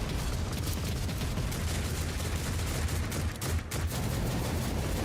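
Turrets firing in the video game Warhammer 40,000: Rogue Trader, a dense, continuous roar of rapid gunfire and blasts that holds loud and steady throughout, with a brief dip partway through.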